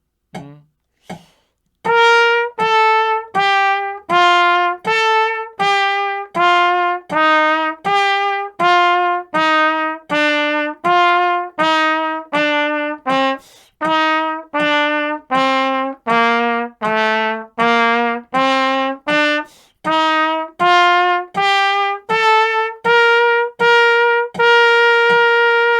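A trumpet plays quarter note study number 15 from third-space C, a long run of evenly spaced, clearly tongued notes with strong attacks, stepping through the line, with a couple of brief pauses for breath, close and loud.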